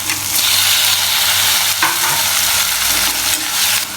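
Garlic, green chillies and onion frying in a pan for a bitter gourd semi-gravy, a loud, dense, close sizzle with a brief stirring scrape partway through.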